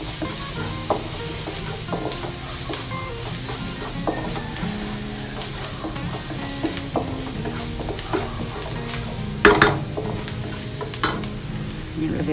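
Shrimp and onion frying in a pan for butter garlic shrimp, a continuous close sizzle with occasional spatula scrapes and a sharper clatter toward the end.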